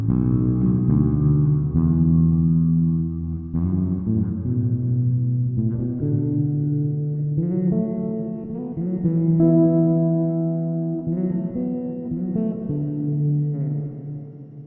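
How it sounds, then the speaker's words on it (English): Bass guitar track played back through a reverb send in a Reaper DAW session, a steady bass line with a sustained, echoey wash ringing under it throughout, loud and continuous with no voice. "if I play this, it's going to sound really echoey"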